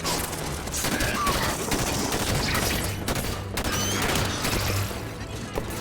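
Light rifle fire in Halo 5: Guardians, dense rapid bursts of gunshots over busy game sound, loud and nearly continuous.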